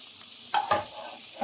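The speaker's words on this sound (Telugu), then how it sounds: "కాజు బాదం దీంట్లో వేయించుకుందాము బటర్లో" Cashews and almonds hit hot butter in a pan, a short close burst of sizzling with a couple of scraping stirs over a soft background hiss, no talk.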